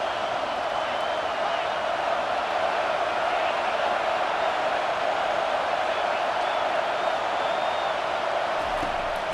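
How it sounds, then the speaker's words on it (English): Home football crowd at a Washington versus Texas game fills the air with a loud, sustained stadium roar, steady throughout, with a commentator's voice faintly over it. "how nice is it to have the home crowd going absolutely bananas?"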